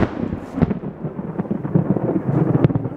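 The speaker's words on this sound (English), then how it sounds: "Do you hear the thunder in the background?" Thunder rumbles in the distance during rain outdoors, mixed with crackling patter and a few sharper bursts, steady and moderately loud with no voices.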